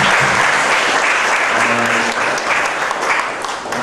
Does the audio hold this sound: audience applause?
yes